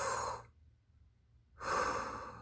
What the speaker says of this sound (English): I take a deep breath